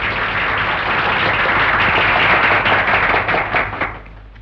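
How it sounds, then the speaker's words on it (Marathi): Dense, sustained applause from an audience at a school Teachers' Day inauguration, loud and continuous for several seconds before thinning out at the end, with no voices over it. "अरे टाळ्या वाजवा की."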